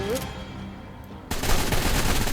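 Gunfire in the survival video game Lost Island, with a loud, dense burst of shots that kicks in suddenly after a quieter stretch and keeps going to the end.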